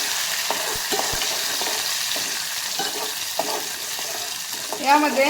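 Dal is stirred and mixed in a pan, a close, steady frying hiss broken by repeated scraping and clacking strokes of the spoon, with a brief spoken word near the end.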